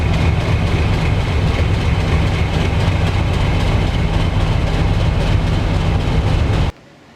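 A preserved Metrovick Co-Bo diesel locomotive rumbles at a heritage railway, a loud, steady low engine drone that holds throughout and then cuts off abruptly at the end.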